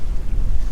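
Gusty wind buffets a sailboat running under a heavily reefed genoa and main in big waves and 15 to 20 knot apparent wind, a brief, loud, rough roar.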